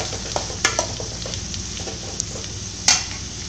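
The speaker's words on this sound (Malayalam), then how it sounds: "സവോള ഇട്ട് നമുക്കൊന്ന് വഴറ്റിയെടുക്കാം" Sliced onions sauté in hot oil with a pinch of salt for a Kerala beef ularthu, sizzling steadily while a utensil scrapes and clinks against the pan in short, irregular strokes.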